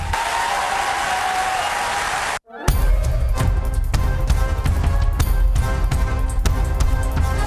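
Frenzied audience applause at a public address, a dense wash of clapping that cuts out briefly then resumes louder and sustained, with sharp individual claps standing out near.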